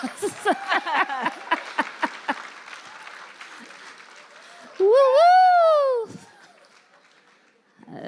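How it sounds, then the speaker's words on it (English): Applause at a State of the City address, light scattered clapping from the audience under someone's voice, with a loud, drawn-out whooping cheer rising over it midway before fading. "That deserves a big round of applause."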